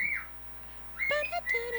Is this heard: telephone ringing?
no